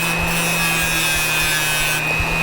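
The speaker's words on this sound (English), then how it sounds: "I'm going to turn it to the side and grind a little taper into the side of the wire." A bench grinding wheel grinding a small taper into the side of a jewelry wire, a steady continuous grinding whine with a constant motor hum, close and loud throughout.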